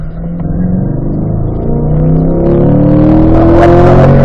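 A car at a performance driving school accelerates hard out of a corner on a racetrack, its loud, close engine note climbing steadily in pitch and growing rawer and louder toward the end, with no talk.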